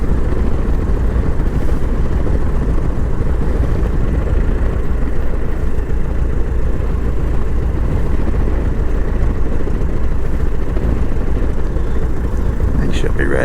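Super Baby Great Lakes biplane taxiing, its piston engine giving a steady loud drone with a deep low rumble throughout, close and continuous, with a faint radio voice or talk partly under the engine noise.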